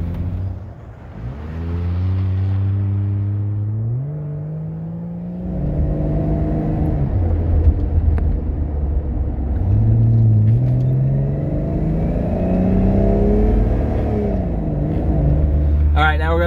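Jeep ZJ driving on a road for a brake test, engine rumbling and revving up through gears with rising and falling pitch, tire and road noise steady throughout, close and loud.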